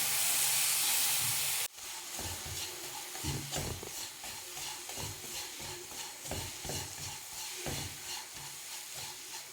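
Condensed milk is stirred into a rava laddu mixture in a pan: repeated soft scraping and mixing strokes, close and continuous, after a brief opening hiss, with no talking.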